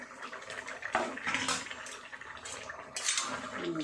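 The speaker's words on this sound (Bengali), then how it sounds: "আমি এবার ঢাকাটা খুলে দেখি কতটা সিদ্ধ হলো" A metal lid comes off a cooking pot of simmering potato, pointed gourd and papad curry, with a few faint clinks and clatters against a soft, watery kitchen background and no talking.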